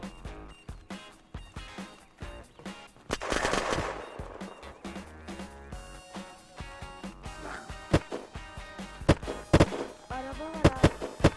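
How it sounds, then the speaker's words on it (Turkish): Gunfire from the video game Unturned: dense bursts of automatic and single shots crackle throughout, with heavy clustered volleys and sharp loud cracks later, over a busy game soundscape. "Bak bak sıkıyorlar dikkat edin solda sıkıyor."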